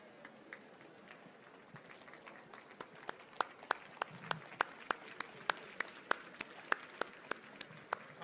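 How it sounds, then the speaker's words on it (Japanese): Seminar audience members clapping for one another, sparse scattered claps at first that settle into a steady rhythmic run of sharp, fairly close claps growing a bit louder. "拍手をお互いにしましょう。"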